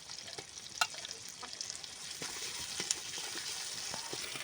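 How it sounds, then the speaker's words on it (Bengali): Onions, chili, ginger and cumin frying in hot oil, a steady close sizzle with scattered sharp pops and crackles throughout. "এবার তেলে পেঁয়াজগুলো দিয়ে দিচ্ছি"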